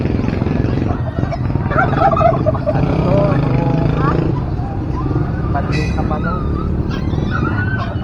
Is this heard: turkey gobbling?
yes